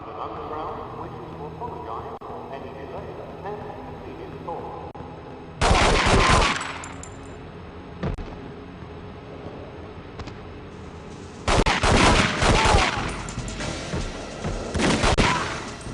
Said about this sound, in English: now that was some good shooting